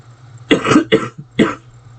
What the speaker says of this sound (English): pardon me for coughing